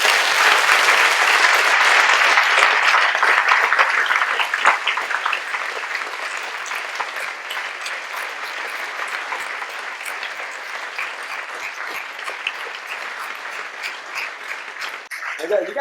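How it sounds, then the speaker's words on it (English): Sustained audience applause for two panel speakers closing a talk on CRISPR genetic engineering, loud at first and then easing to a steadier, softer patter that runs through to the end. "a round of applause for Martin and Effy, please"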